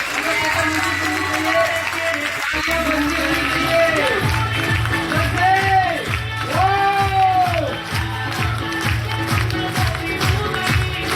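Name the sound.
audience applause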